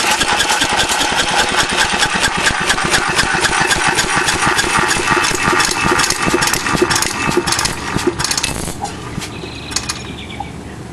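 A large two-stroke engine on a first official run runs loudly and steadily nearby with a rapid, sputtering beat, then slows and winds down near the end as it is shut down.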